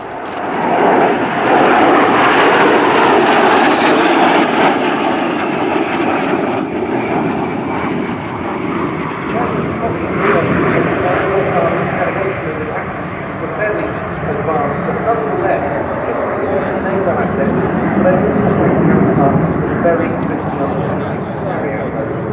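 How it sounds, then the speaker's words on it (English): Two Polish Air Force Su-22 jets flying a display pass at an air show, a broad continuous jet roar sustained throughout, loud and steady, with a commentator talking over it. "Continuing this racetrack pattern now as they run in for another pass."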